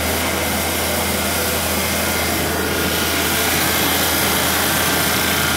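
A walk-in cooler's refrigeration compressor unit runs with a loud, constant, close-up mechanical drone and a low electrical hum, with no change throughout.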